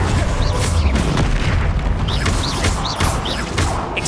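Incendio fire spell cast in Hogwarts Legacy video game combat: a loud, continuous stretch of booming blasts and crackling bursts, with several sharp impacts layered over a dense, rumbling roar.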